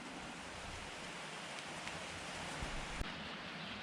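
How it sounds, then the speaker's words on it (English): Steady rain falls outside, a dense even hiss of drops on surfaces with no break, close and moderately loud, with no talking. "it's bloody raining."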